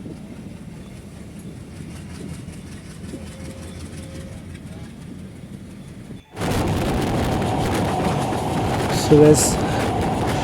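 A train pulls out of Nimtola toward Dhaka by way of Keraniganj. A steady low rumble swells abruptly into a loud, continuous roar partway through, and a voice speaks briefly.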